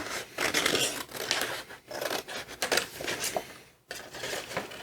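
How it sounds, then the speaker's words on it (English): Scissors snip steadily through paper to cut out a shape for a Gelli plate print, a close, crisp run of cutting strokes with one brief pause near the end. "So what I'm going to do is cut this out."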